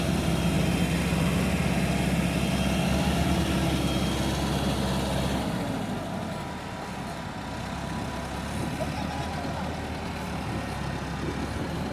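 Massey Ferguson tractor straining to pull a loaded sugarcane trolley up a steep unpaved slope, a loud, heavy engine roar that eases partway through and continues as a lower, steadier drone.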